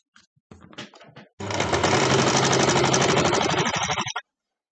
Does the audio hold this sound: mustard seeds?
no